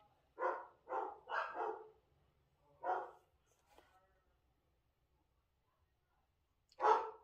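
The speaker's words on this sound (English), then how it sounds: "Sorry about the barking." Dogs bark in a few separate bursts indoors, a quick run of three or four barks, then a single bark, and a last loud one after a quiet pause.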